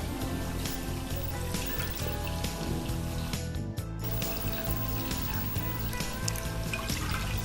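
Water poured into a cooking pot while making sweet corn butter rice, a steady close liquid pour and trickle running throughout with a brief dip midway, no talking.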